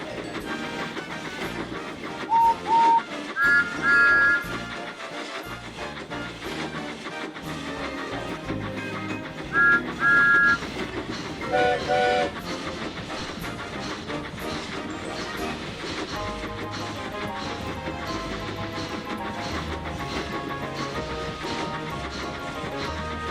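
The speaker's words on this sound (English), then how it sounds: "Henry blew his whistle when he saw Thomas." A steam train's whistle sounds in short bright toots over a continuous clattering, rumbling run of a moving train, mixed with a busy soundtrack throughout.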